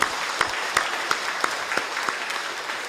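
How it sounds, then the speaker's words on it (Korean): Congregation in a church service applauding to welcome two newcomers, a steady wash of clapping with a few sharper accents at regular intervals, moderately near and continuous throughout. "우리 두 분에게 환영하는 큰 박수 한번 쳐주시면 고맙겠습니다"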